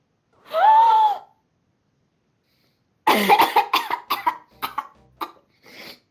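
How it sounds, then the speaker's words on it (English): A single strained vocal sound, then a burst of several harsh coughs in quick succession, close and loud, trailing off into a final softer cough. "I'm so impressed I started coughing"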